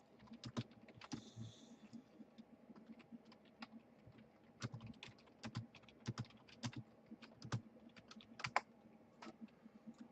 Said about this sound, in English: as you likely just saw me type into chat